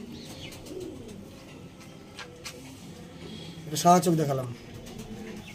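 Slender, lanky pigeons coo softly in the background while someone talks over them, with a louder burst of cooing and fluttering near the middle.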